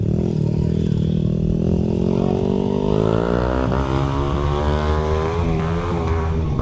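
A loud vehicle exhaust roars steadily, its pitch climbing as the engine revs up, with no talking.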